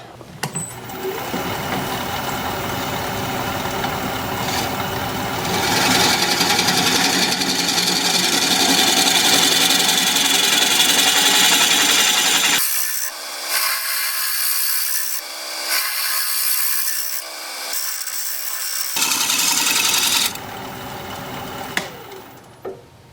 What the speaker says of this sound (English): I'm going to switch back to my gouge.